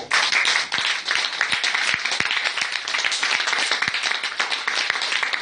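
A church congregation at Bible study and prayer claps hands loudly and continuously, a dense, close roar of many hands with a few sharper individual claps standing out.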